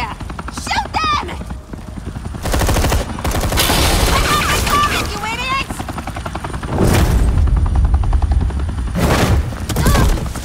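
Bursts of police gunfire in a Batman video game, loud volleys mixed with a helicopter drone and voices talking between and over the shots.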